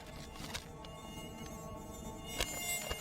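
A mosquito buzzes with a thin, steady, high-pitched whine close to the ear, with a few faint clicks and no voices.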